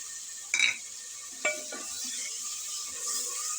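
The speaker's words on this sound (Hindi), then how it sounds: "इसके साथ ही इसकी हम बुनाई दोबारा से करें, एक दफ़ा पहले बनाई, एक दफ़ा फिर से बनाई।" Fried potato and eggplant stirred in a pan with yogurt and spices, a few scraping spatula strokes over a steady soft sizzle, close and without talk.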